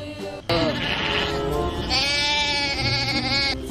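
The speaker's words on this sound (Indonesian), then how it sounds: "Widih, di sini ada kambing," A video-game goat gives loud, close bleats, a wavering nasal cry that rises into a longer, shaky call.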